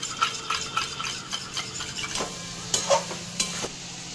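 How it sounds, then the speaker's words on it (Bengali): A spoon whisking sour yogurt in a bowl, giving quick irregular taps and light scraping strokes close by, fairly soft, with no voices. "টক দইটা ফেটিয়ে নিই।"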